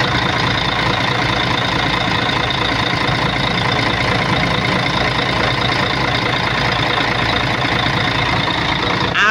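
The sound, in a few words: Mercedes bus engine idling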